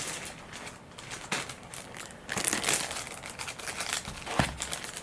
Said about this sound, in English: Now what I'm going to do is cut up a piece of plastic baggie.